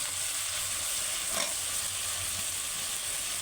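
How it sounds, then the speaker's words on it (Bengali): Potatoes are stir-fried with cooked-down spice paste in a pan; a steady, even sizzle and hiss continues throughout, fairly faint, with no talk. "এবার আমি ওর সঙ্গে আলুটা দিয়ে কষে নেব"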